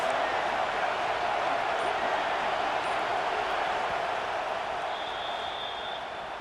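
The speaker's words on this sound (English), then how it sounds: "This crowd trying to make life miserable for this offense." Stadium crowd in the EA Sports College Football 26 video game roars steadily throughout, a dense continuous wash of noise at constant loudness.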